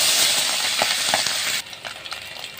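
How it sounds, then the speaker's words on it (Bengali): Tangra fish frying in hot oil, a loud broadband sizzle with a few light clinks, which suddenly drops to a much quieter crackle about halfway through. "মাছটাকে ভেজে নিচ্ছি।"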